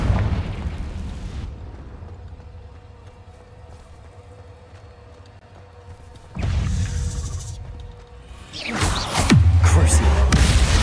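Confringo fire spell in Hogwarts Legacy, a burst of blast noise after a quieter stretch, followed by a second heavier boom with rumbling low end and crackling debris.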